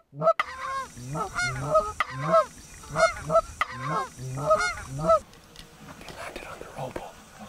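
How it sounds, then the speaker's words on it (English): Five geese honk repeatedly as they come in fast and land near robotic decoys on a duck and goose hunt, loud close calls in bursts that fade to quieter rustling at the end. "There's five geese."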